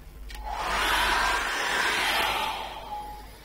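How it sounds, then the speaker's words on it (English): Hairdryer blowing over wet acrylic paint on canvas: a loud, steady whooshing hum that rises quickly, holds for a couple of seconds, then starts to fade, with no voices. "I'm just going to get the hairdryer on that now. And I'm going to dry that off."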